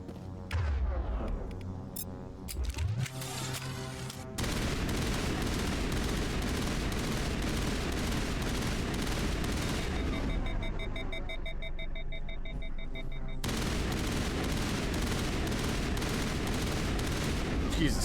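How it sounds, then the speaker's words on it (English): Heavy, booming upgraded shotgun blasts in Mass Effect, fired repeatedly over a long stretch amid dense combat noise, with a brief quieter gap partway through. "God, the shotguns in this game are satisfied once you get them upgraded."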